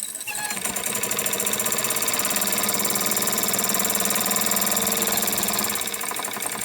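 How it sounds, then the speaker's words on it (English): A Jensen Model 25 engine fitted with a governor idles steadily, a continuous rapid mechanical chugging and clatter that stays loud and even throughout, with no talking. "Engine seems perfectly happy running in either direction, as it did before."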